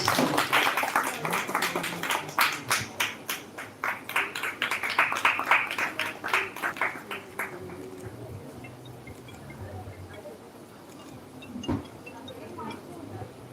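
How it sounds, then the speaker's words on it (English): At the Miss South India pageant, an audience keeps clapping as a contestant receives her sash. Distinct, rhythmic hand claps ring out for several seconds before thinning out, with voices heard alongside. "Keep the applause going."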